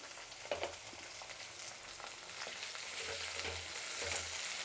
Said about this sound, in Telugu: ఇప్పుడు ఇది వేగింది, ఎర్రగడ్డ వేద్దాం.